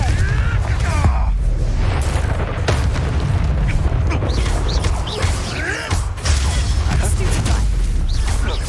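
Confringo fire spell blasts in Hogwarts Legacy erupt continuously, loud booming and crashing bursts layered with rumble and scattered crackle, a voice briefly heard over the chaos.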